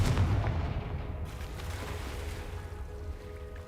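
A Confringo explosive spell from Hogwarts Legacy bursts at the very start with a loud, deep boom, then fades into a rumbling, crackling tail for several seconds.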